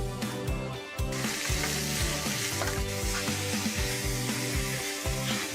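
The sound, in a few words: calamari sizzling in a hot paella pan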